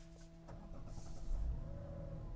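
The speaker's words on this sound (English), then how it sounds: "There the car turns on." A 2025 Mazda CX-70 with a 3.3L turbo engine starts up from inside the cabin, a steady engine hum rising slightly over a couple of seconds with no talking.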